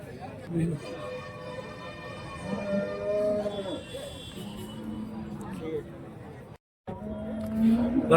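Cows low repeatedly at a busy cattle market in Santhipuram, Andhra Pradesh, several drawn-out moos near and far amid people talking and background chatter, with a brief drop to silence near the end.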